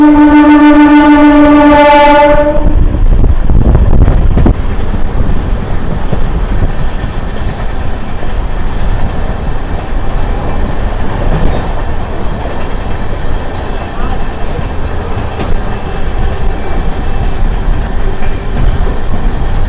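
Sabari Express LHB train passing a slower passenger train on the Secunderabad–Tirupati line: a loud horn blast at the start, then a steady close rumble of wheels and carriages.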